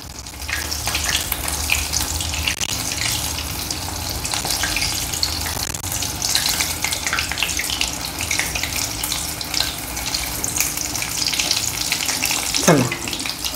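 Cheese corn balls deep-frying in hot oil over a high flame give a steady, close sizzle and bubbling hiss that runs throughout, with a brief scrape or stir near the end.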